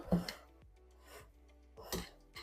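Seafood salads with added corn are mixed in bowls, heard as soft close rubbing and scraping strokes of a utensil with a few brief louder clinks, irregular and fairly quiet, with no talk.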